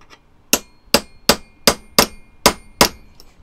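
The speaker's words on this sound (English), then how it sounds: "I'm gonna use my little punch that I've hardened." Seven sharp metallic clangs ring out as a hardened, sharpened punch is hammered against a metal fork to mark the spot for a hole, each strike evenly spaced and ringing briefly.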